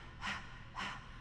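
A singer's breathing warm-up: two sharp, close audible inhalations about half a second apart, alone in a quiet room.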